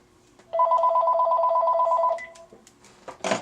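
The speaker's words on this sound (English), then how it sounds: "of course the phone's gonna ring" A telephone rings once, loud and close, with a buzzing warble lasting about a second and a half, in a room where wedding dress pieces are being shown for sale; faint rustling and a brief shuffle follow.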